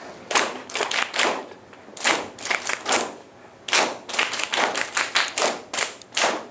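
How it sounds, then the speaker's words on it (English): A group claps in rhythm during an interactive music workshop for young learners, sounding out the short and long sounds of words, giving uneven bursts of several quick claps separated by brief pauses, with no talking. "I'd like this side of the group to clap the short and long sounds"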